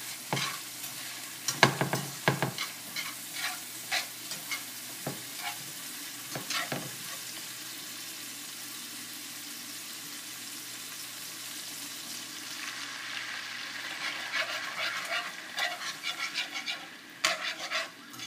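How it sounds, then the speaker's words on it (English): Mushrooms sizzle and fry in a pan on the stove while a utensil stirs them in bursts of scraping, then a louder hiss rises as white wine is poured in near the end. "We're going to let the mushrooms cook down just a little tiny bit, and we're going to go ahead and add the white wine."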